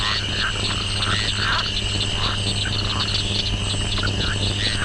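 Frogs croak at night in a dense, continuous chorus of rasping, pulsing calls, fairly loud and close, with no talk over it.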